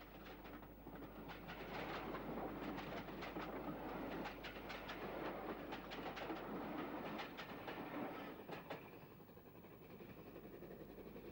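A Mogul steam locomotive runs tender first on the Southern Railway's Chessington branch at Tolworth, with a steady loud rolling roar and a rapid clickety-clack of wheels over rail joints that eases off slightly near the end.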